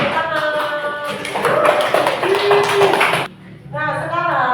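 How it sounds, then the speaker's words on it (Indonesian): A classroom of students claps briefly for a few seconds, mixed with voices, then the clapping stops and talking continues. "Kasih tepuk tangan"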